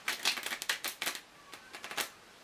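A deck of playing cards is shuffled up close in quick, crisp riffling bursts, a rapid flutter of snapping card edges that pauses briefly and resumes.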